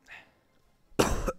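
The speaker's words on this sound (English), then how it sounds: "Note to self, readjust my mic when I'm about to cough." A single loud, close cough bursts out near the end, after quiet background sound from a Wizard101 battle, heavy and slightly distorted as if right into the microphone.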